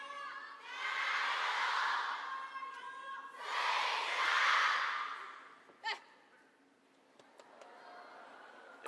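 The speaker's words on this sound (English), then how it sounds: "There it is again, crowd likes it." A table tennis crowd at a China Smash women's singles match reacts to a point, with two swelling waves of cheering and murmuring followed by a sharp crack and quieter, scattered crowd noise.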